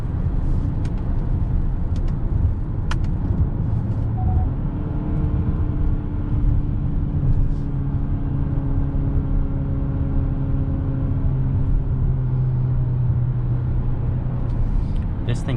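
A 2021 Hyundai Santa Fe 2.5T SUV drives at night in sport mode, its engine and road noise forming a steady, loud drone with rising and falling tones through the whole stretch, and someone talks over it throughout.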